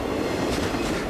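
A runaway 47-car CSX freight train rumbles past with a steady, loud, broadband roar, close and continuous, with no voices.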